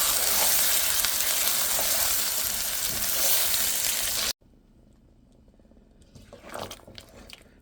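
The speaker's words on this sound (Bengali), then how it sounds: "নেড়ে চেড়ে কিছুক্ষণ ভেজে নেবো" Meat being stirred and fried: loud, steady frying sizzle close by for several seconds, then it cuts to a quieter background with scraping stirring sounds near the end.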